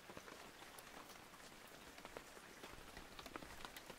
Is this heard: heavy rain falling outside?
yes